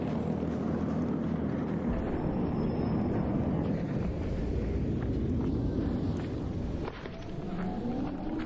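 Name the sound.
turbine in video game ARC Raiders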